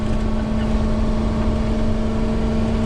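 A 2000 Thor Four Winds Hurricane 30Q Class A gas motorhome with a V10 gains speed up an interstate hill. Its loud, steady engine drone blends with a constant rush of road noise and a sustained low tone.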